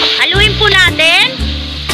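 Pork and mushrooms stirred in a hot frying pan, a steady close sizzle with scraping stir strokes, partly under a voice talking.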